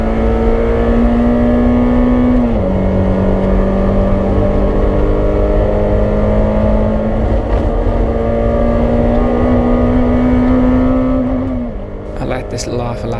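A race car in the BRSCC Clubsport Trophy at Oulton Park drones loudly and steadily from onboard, its engine pitch holding high before dipping and shifting between gears, fading slightly near the end as a voice talks over it.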